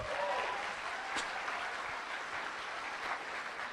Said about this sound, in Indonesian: Tepuk tangan dulu untuk Anda.